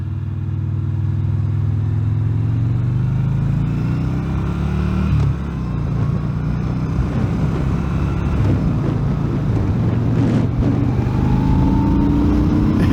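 Yamaha XVS 950 Bolt motorcycle engine rumbling steadily and loudly under way, pitch climbing gradually as it accelerates, with wind buffeting the microphone throughout.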